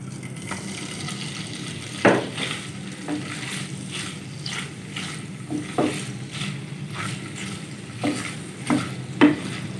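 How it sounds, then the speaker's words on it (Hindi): Chicken pieces frying in about two tablespoons of hot oil in a pan on the stove, with a steady low sizzle and occasional scraping stirs, no voices. "चिकन का कलर तब्दील होने तक पका लेंगे।"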